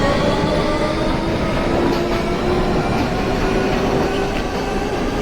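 Subway train in the openBVE simulator game pulls away from Roosevelt Island station, a steady loud rumble with a faint rising motor whine running throughout, no talk.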